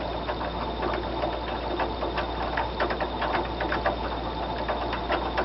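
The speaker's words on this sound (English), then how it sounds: "Screw it in." Screws being driven into a hard drive while rebuilding a computer, a steady run of small ratcheting, clicking mechanical turns heard up close against a constant background hum.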